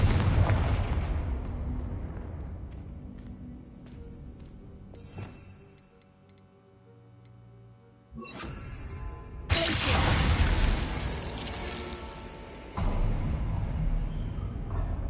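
Confringo fire spell explosions in Hogwarts Legacy: loud, booming blasts burst out several times, separated by quieter stretches with ringing, ticking tones, and a final pair of heavy hits.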